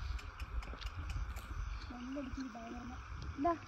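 Horse hooves clop faintly on the ground at Mannavanur near Kodaikanal, a few scattered steps heard under people talking nearby.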